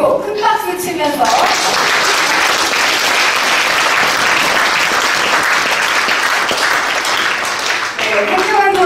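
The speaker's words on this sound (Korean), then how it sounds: "우리 서로 축하하는 의미로 큰 박수 치면서" Loud, sustained audience applause fills a Korean National Assembly conference room during a volunteer movement launch ceremony, dense clapping running nearly the whole time with speech faintly at the edges.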